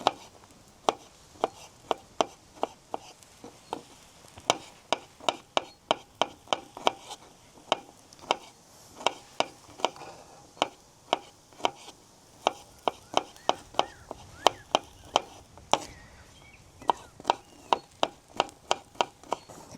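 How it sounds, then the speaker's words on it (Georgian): Garlic being finely chopped with a knife outdoors at a reservoir cooking trip, a long run of crisp, sharp blade taps on a board, mostly steady and evenly spaced with a few short pauses, close and fairly quiet. "მანამდე დავჭრათ ნიორი წვრილად"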